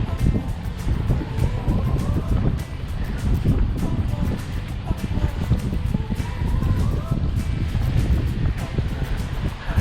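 Cold wind blowing hard across the microphone on a windy day of fishing outdoors, a constant loud buffeting rush with gusty bursts throughout.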